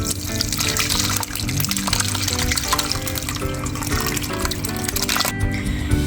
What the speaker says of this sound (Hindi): अब इसको इस छन्नी में छान लें।